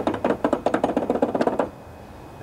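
Worn deck bearing on a John Deere LA145 riding mower rattling as the blade is rocked by hand: a rapid series of close, sharp metallic knocks for about a second and a half, then stopping.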